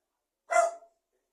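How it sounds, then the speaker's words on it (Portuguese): A single dog bark, short and sharp, fairly close and alone against silence. "O cachorro está latindo loucamente há um bom tempo."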